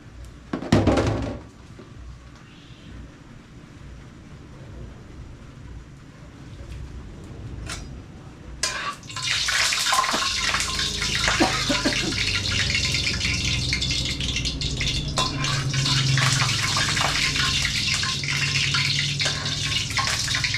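Water pours steadily into a vessel with a broad rushing hiss, preceded by a few clunks and quieter handling sounds.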